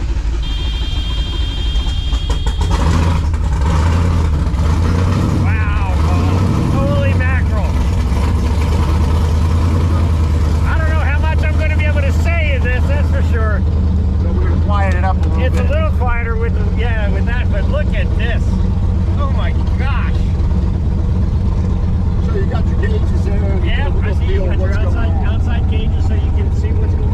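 An American muscle car engine cranks, fires and settles into a loud, close, throbbing idle with occasional revs, while people talk over it.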